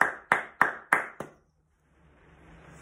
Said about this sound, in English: stand up for your big clap